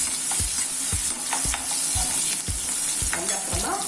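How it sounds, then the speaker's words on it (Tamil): Onions sautéing in a pan toward golden brown for Tamil vatha kuzhambu, a steady sizzle with a regular rhythm of spoon stirs and scrapes, close and clear with no talk. "நல்லா வதங்கட்டும், கோல்டன் ப்ரௌன் வரணும்."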